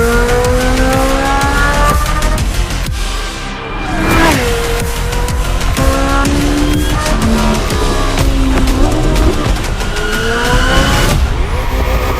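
A Ferrari 488 GT3 AF Course race car in The Crew Motorfest roars loudly through continuous high revs, with rising and falling engine pitch through gear shifts and brief tire squeal, the engine dominating throughout.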